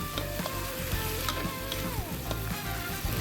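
Wide rice noodles with scrambled egg stir-fry in a pan for pad see ew, a steady loud sizzle with occasional utensil scrapes and taps running throughout, no talk.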